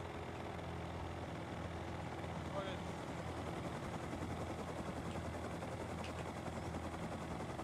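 A helicopter in the video game Rust lifting off, with a steady low rotor and engine drone holding throughout, fairly faint, while voices talk over it.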